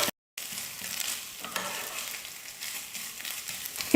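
Steady sizzling from a hot pan over a low flame as coconut is stirred with scraping strokes, close up, briefly cut to silence near the start.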